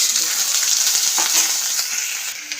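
Cauliflower sizzles and crackles as it is tossed into hot oil with dried red chilli and nigella seeds, a bright, close frying hiss with stirring clatter throughout.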